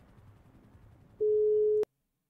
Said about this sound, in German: er ruft gerade Frank an